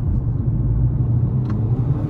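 Jeep Commander pulling away hard from a traffic light, a steady low engine rumble throughout, moderately loud with no voices.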